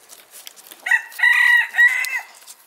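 A small Ancona bantam hen gives a loud, close burst of raised, drawn-out clucking calls lasting about a second and a half, alone with no talking.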